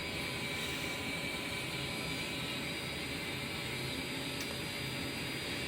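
Steady, loud jet aircraft engine drone inside a flight simulator game after a cold start, a continuous broadband roar with a high whine that holds constant throughout, no voices.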